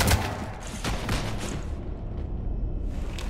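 Weapons fire aboard a starship in Mass Effect 3: a few loud, quick shots open the stretch, then a steady mechanical hum carries on as the firing fades out.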